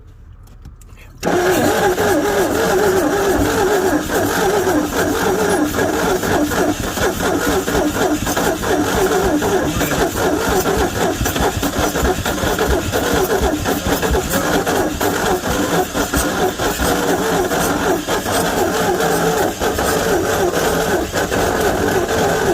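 A junkyard 1961 Chevy Biscayne engine cranks, catches and keeps running loud and rough at a steady idle, close by, with people talking nearby.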